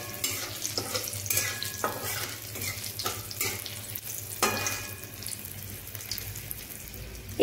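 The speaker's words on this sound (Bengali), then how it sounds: "এবার একটু ফোড়নগুলো এরকম লাল লাল করে ভেজে নেব" Garlic and whole cumin seeds frying in oil in a pan, a soft continuous sizzle broken by scraping stirs and clinks of a utensil against the pan, close and fairly quiet, no talking.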